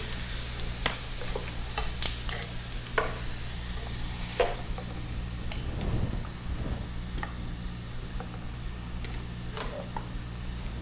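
Spoon stirring a poppy seed mixture in a bowl, quiet scraping and clicking with scattered taps and a brief thump, over a low steady kitchen hum.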